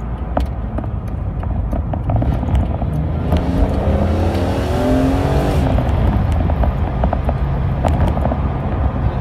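An E46 BMW M3 engine revs up loudly, its pitch climbing through the gears over a constant road rumble, then settling back.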